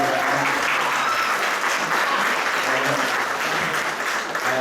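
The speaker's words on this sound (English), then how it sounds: "And so just one last round of applause for the Case Fund Committee." Audience applause at the opening speeches for Caddington Woods, a dense, steady round of clapping from a crowd that holds at full strength throughout with no talk over it.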